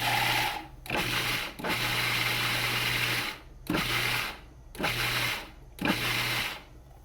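A food processor pulsing basil pesto with pine nuts, loud close motor bursts, roughly five pulses of a second or two each with brief silent gaps between them, and no talking.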